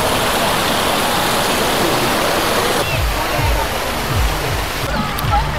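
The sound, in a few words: Kaveri river water being released, rushing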